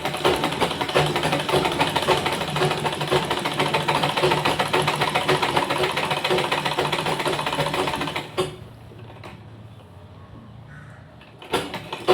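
A sewing machine runs a fold seam on a blouse with a loud, fast, steady rattling hum that stops abruptly near the end, leaving quiet room noise.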